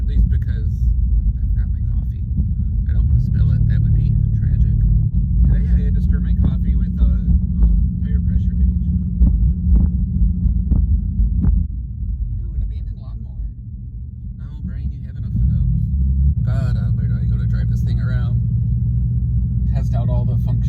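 A Jeep Commander SUV is driven slowly on the road, heard from inside the cabin as a steady low engine and road rumble with a brief dip midway, while a person talks over it.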